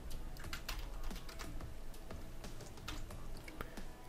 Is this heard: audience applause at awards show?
no